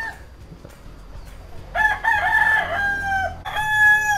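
On a farm raising imported chicken breeds, a rooster crows loudly nearby in a long wavering call, then starts another, over faint background clucking and ambient noise.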